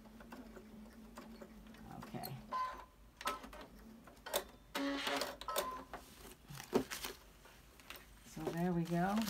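A home embroidery machine stitches a small baby bumble bee design, giving off a busy run of mechanical ticks and clicks at close range, with a voice talking over parts of it.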